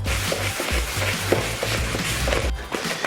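Butter and sugar cake batter being beaten by hand in a bowl, giving a continuous close scraping and slapping rhythm of a spoon working through the mix, with no voices.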